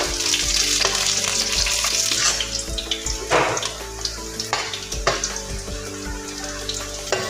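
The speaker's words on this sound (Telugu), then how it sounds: "ఎర్రగా అయ్యే వరకు ఇలా వేయించాలండి" Slit green chillies frying in hot oil for an Andhra-style fish curry, a steady close sizzle and crackle with occasional stirring scrapes, no voices.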